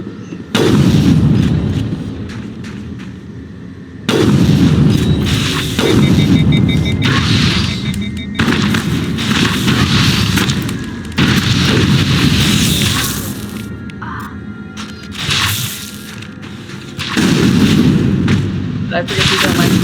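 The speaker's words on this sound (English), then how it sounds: "We're on our rocket launcher here, sweetie." Rocket launcher explosions in the Mass Effect video game, set in a frozen tundra, come as a string of loud, heavy booms with rumbling tails, repeating every couple of seconds with short gaps between them.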